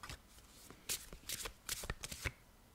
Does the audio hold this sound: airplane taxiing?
no